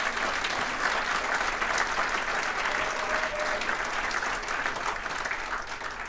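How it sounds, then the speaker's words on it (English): A large audience at a regional political address claps loudly for several seconds, a dense steady wash of many hands that tapers slightly toward the end. "Give them a big round of applause."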